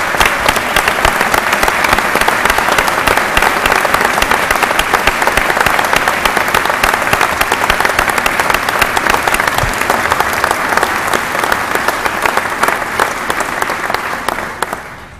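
An audience at the 2013 South Carolina State of the State address bursts into sustained, loud applause, dense clapping from a large crowd that holds steady for about fifteen seconds before starting to fade.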